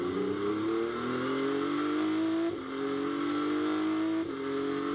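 GT3 race cars at the Spa 24 Hours roar loudly and continuously. Engine pitch climbs steadily, then drops briefly twice as the cars shift and pass.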